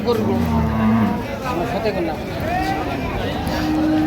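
Dairy cows and calves lowing amid a busy outdoor cattle market at Ambari Haat, Dinajpur, with a crowd babbling and nearby voices talking throughout.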